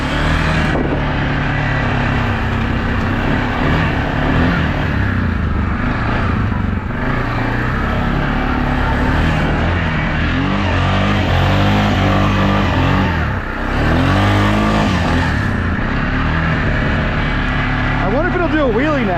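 A Pioneer off-road side-by-side churns through mud in a yard, its engine droning steadily in low gear with surging revs throughout, loud and close, while people talk over it.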